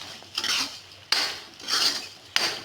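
Bottle gourd halwa with sugar being stirred in a pan, with three scraping, clinking strokes of a spoon against the metal, each rising then trailing off, close and fairly quiet, no talking.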